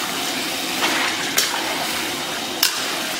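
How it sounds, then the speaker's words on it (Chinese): Chopped fatty pork intestines sizzle in a pot with a little oil, a steady close hiss broken by a few sharp spatters or clanks. "简单给它煸炒一下。"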